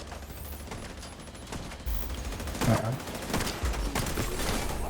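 Bursts of rapid gunfire from a shooter video game, volleys of automatic fire crackling and thudding at moderate loudness over a steady low rumble of background game noise.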